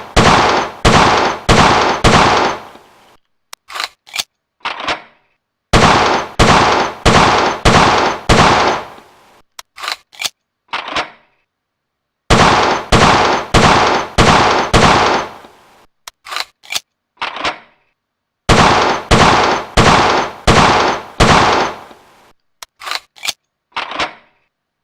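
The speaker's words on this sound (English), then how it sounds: "Not that you can hear anything I'm saying when I'm shooting" Loud bursts of rapid gunfire from weapons in the video game World of Guns, firing in repeated volleys of several quick shots, each run ending in a few sharp clicks, with short silences between.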